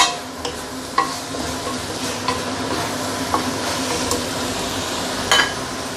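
Roast meat and leeks stir-fried in a hot pan, a continuous sizzle with scattered scrapes and clinks of the spatula against the metal.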